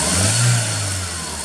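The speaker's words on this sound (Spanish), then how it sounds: "Ahorita Salim me va a ayudar a darle un acelerón y vamos a ver la reacción." A Volkswagen car engine with an oscillating idle fault has its accelerator blipped: a loud, close rev that swells quickly and then eases back toward a steady drone, with no talking.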